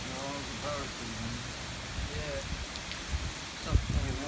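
Steady rain falls during Hurricane Matthew in Florida, a dense continuous hiss close by, with wind gusts and people talking over it.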